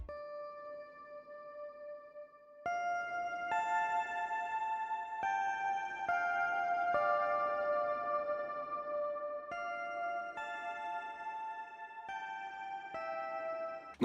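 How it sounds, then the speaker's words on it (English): A sampled lap steel guitar layer from Labs in an FL Studio melody loop for a Spanish guitar sample: sustained gliding tones shifting through chord notes every second or so, soft and clean, with no talk. "So the last thing I added to this loop was this lap steel sound from Labs."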